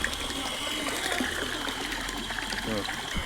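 Water gushes and trickles steadily from a home water pump motor being repaired, a close, continuous splashing flow that runs the whole time.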